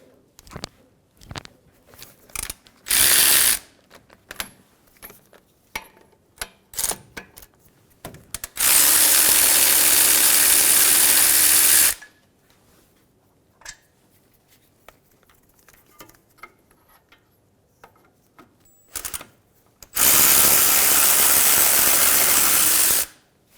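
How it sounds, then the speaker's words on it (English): A 17mm socket is used to remove the caliper bracket bolts on a 2003-2008 Honda Pilot. Quick ratchet clicks and taps alternate with two long, loud bursts of a power tool spinning the bolts out, with no one talking. "Using a 17mm socket, remove the caliper bracket bolts."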